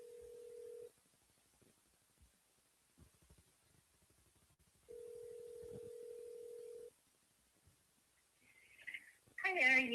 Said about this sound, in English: I'm just going to call her so everyone can hear it.